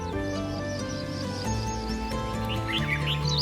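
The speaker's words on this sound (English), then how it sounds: "The male redstart's song is a beautiful medley of whistles," A male redstart sings a medley of whistles, trills and chirps, with brief high bright phrases over a steady bed of tonal background music.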